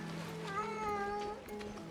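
In the video game Honkai Star Rail, a cat gives a drawn-out, wavering meow lasting about a second, heard clearly over a low steady hum from the game's background.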